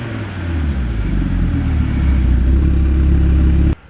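An Audi RS3 five-cylinder engine revs loud and close with a deep, steady rumble, then cuts off abruptly near the end.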